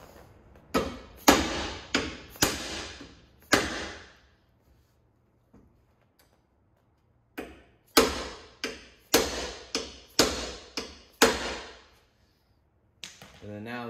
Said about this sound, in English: So what we can do now is we can hammer these rivets flat.